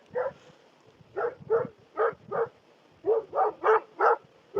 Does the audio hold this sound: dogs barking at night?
yes